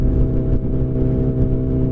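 A turbocharged manual car's engine drones loudly from inside the cabin, a steady mid-pitched hum with a faint whir that shifts slightly as it pulls.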